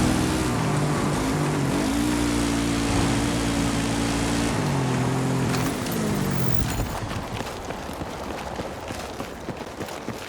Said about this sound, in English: That helo's bringing in reinforcements!